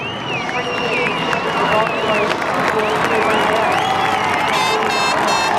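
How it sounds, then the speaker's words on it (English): A huge crowd cheers and applauds steadily at the transition area of the 2006 Commonwealth Games men's triathlon, loud and continuous, with whistles and shouts rising near the end. "And a huge crowd here at the transition."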